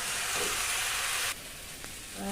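Vegetables with green chilli and peas are stirred in a hot pan, a steady bright sizzle that suddenly drops to a softer frying hiss, with a light scrape of the spoon near the end.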